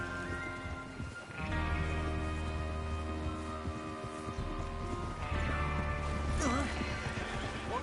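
Horses in a Western outlaw setting in Red Dead Redemption 2 whinny loudly and stamp with clip-clopping hooves, with a second neigh rising near the end over continuous rustle and movement.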